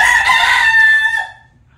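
A nearby rooster lets out a single loud, harmonic crow that lasts about a second and then fades into quiet, with no talking.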